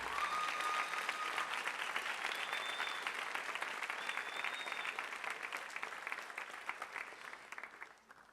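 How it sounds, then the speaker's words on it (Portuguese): A church congregation claps in a steady, fairly distant wave of applause, with a few faint shouts mixed in, gradually fading out at the end. "Pode aplaudir, gente."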